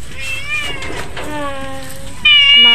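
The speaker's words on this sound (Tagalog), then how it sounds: "Ayan po yung mga pusa." Several cats meow repeatedly while being fed outdoors, with overlapping high drawn-out cries close by and a louder meow at the end.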